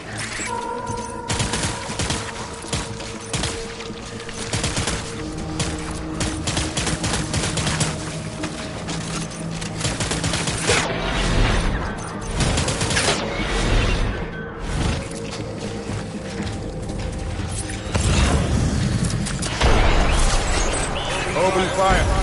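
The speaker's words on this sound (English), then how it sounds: "Taking fire." Dense gunfire fills a battle in the video game Death Stranding: rapid volleys, bursts and booms crack continuously for over twenty seconds, loud and close, with a heavier surge near the end.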